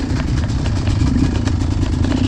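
A Yamaha YZ250 two-stroke dirt bike runs in third gear near stalling, its engine making a loud, steady, rough low-pitched rattle with rapid pulsing close by.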